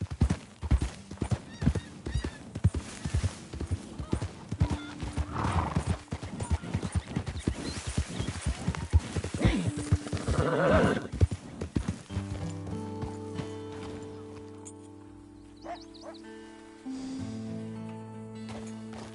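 Hooves clip-clop in a steady rapid rhythm as a horse trots in the game Red Dead Redemption 2, with a neigh and snort mixed in, then in-game music and ambience take over near the end.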